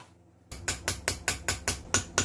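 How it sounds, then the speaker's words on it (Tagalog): A hammer taps an aftermarket CV joint bearing into place on a car axle, about eight evenly spaced metallic knocks, close and moderately loud, following a brief quiet start. "So dahan-dahan na pukpok lang ang kailangan niya at papasok na yan."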